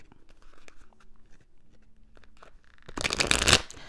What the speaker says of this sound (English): Let me do one regular shuffle